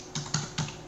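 Code typed on a computer keyboard, four distinct close key taps in an even quick rhythm, heard alone and fairly crisp.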